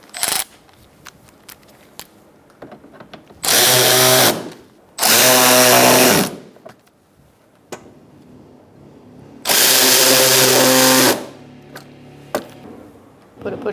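A power tool drives in the bumper cover bolts on a 2012-2018 Ford Focus. It gives three loud whirring bursts of a second or two each, separated by quiet pauses with small clicks and handling noises.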